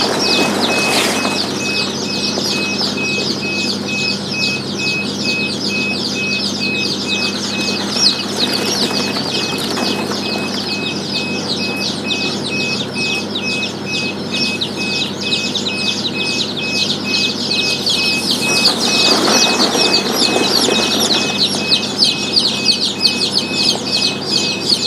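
Crowd of young chicks in a poultry brooding house on a local chicken farm, a dense, continuous chorus of high peeping and cheeping, loud and close throughout with no talk.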